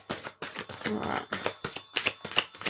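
Tarot cards being shuffled in a run of quick, crisp riffling bursts, close and fairly quiet, with a brief spoken word partway through.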